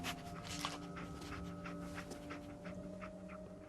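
Dogmeat, the dog companion in Fallout 4, pants rhythmically in quick breaths with a few sniffs, quiet and close, over a faint humming game backdrop.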